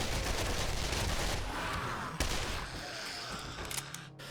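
Rapid SMG gunfire in a video game, a dense continuous burst of shots filling the first half, then thinning into scattered shots and game noise.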